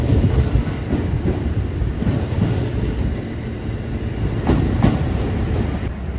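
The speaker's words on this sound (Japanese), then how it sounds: "10時22分着快速三宝と高松行き7000系普通電車。" A JR Shikoku 7000 series local train runs through Takamatsu Station with a loud, continuous rumble and rhythmic clickety-clack of wheels over rail joints. It is close and alone, with no voices.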